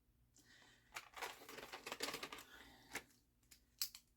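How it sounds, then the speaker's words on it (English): Small retractable highlighter pens being clicked and handled up close, producing a quick run of light plastic clicks and rustles, fairly quiet, with no voices. "little clicky highlighters"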